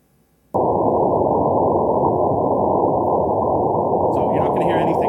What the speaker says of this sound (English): This is just the instrumental noise.